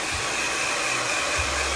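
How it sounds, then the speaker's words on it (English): Hairdryer blowing hot air onto a hair brush in a barber's shop during a short men's haircut, a steady close whoosh with low rumbling bumps, no talking. "just to heat up the hairdryer on the brush"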